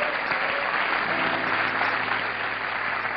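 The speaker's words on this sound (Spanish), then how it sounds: "Un aplauso al Señor Jesucristo." A church congregation at a revival service claps hard and continuously, a dense, loud wall of applause from a large crowd that holds steady with no pauses.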